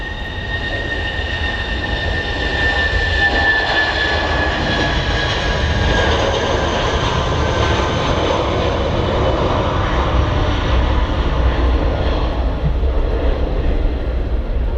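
A Eurowings jet airliner takes off for Dusseldorf at Manchester Airport, a loud, steady roar of jet engines that holds high throughout and fades slightly near the end.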